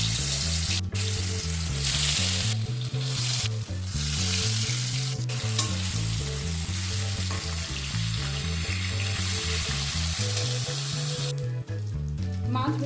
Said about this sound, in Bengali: তেল গরম হয়ে গেলে মাছের পিসগুলো দিয়ে দেব।